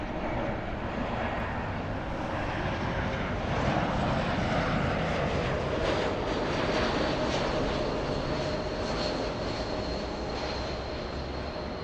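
A SkyWest Embraer E175 regional jet flying, heard as a steady, fairly quiet engine roar with a faint whine, holding level throughout with no talking.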